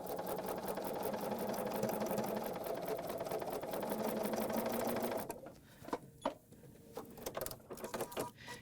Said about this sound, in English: I'm stitching just one thread off of the center of my